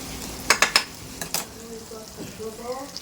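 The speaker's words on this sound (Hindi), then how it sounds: "अब इसको फ्राई होने देते हैं हम अच्छे से।" Bitter gourd (karela) fingers frying in hot oil in a pan, a few sharp utensil clinks and stirring knocks near the start, then a soft sizzle and bubbling beneath.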